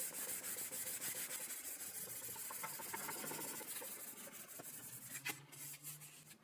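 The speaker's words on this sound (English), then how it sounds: "I'll go over it with a Scotch-Brite pad." Quiet, steady rubbing of a Scotch-Brite pad over a wooden pattern, a soft continuous abrasive hiss with small rhythmic strokes, close up, alone.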